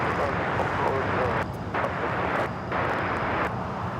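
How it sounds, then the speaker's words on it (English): A Boeing 777 freighter jet at LAX spools up for takeoff, producing a loud, broad and continuous roar heard from a distance. The roar has brief dips in level, and a little talk can be heard under it. "777 freighter lighting up for takeoff."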